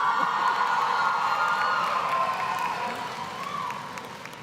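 A commencement ceremony crowd cheers and applauds enthusiastically, a dense, loud wash of clapping, whoops and shouts that fades slightly toward the end.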